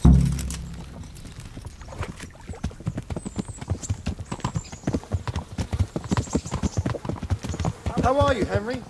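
Horse hooves clip-clop in steady rapid rhythm during a ride in the video game Kingdom Come: Deliverance, loud and close, with a whinny near the end and voices talking.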